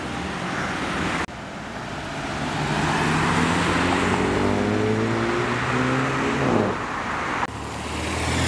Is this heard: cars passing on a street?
yes